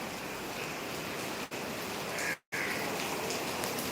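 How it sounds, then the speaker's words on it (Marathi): Heavy rain pours down in a steady, dense hiss that fills the whole clip, broken only by two brief dropouts. "मुसळधार पाऊस सुरू झालेला आहे"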